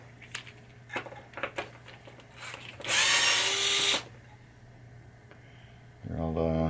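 A power drill whirs for about a second, backing screws out of a Gottlieb pinball saucer from a 1986 Hollywood Heat machine, with a speaking voice before it and a shorter motor run near the end.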